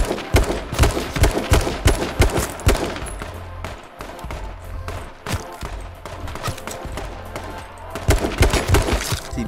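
Rifle gunfire in the video game H1Z1 rings out as dense, loud bursts of rapid shots, close and repeated, pausing briefly before starting again.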